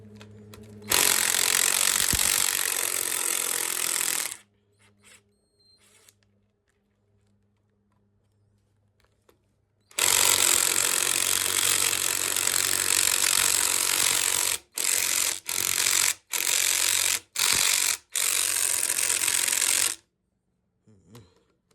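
Power tool loosening oil pan bolts on a junkyard 5.7 Hemi engine, loud sustained whirring bursts, one long run, then a longer run and several short rapid bursts with pauses between.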